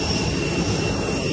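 An airplane's jet engines roar steadily before flight, a loud, even drone heard from inside the cabin with no talking.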